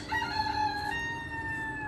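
A rooster crows one long, drawn-out call, loud and fairly close, with faint background noise and no talking.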